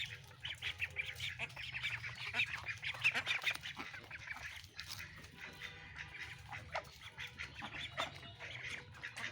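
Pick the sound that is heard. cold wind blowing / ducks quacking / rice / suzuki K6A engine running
ducks quacking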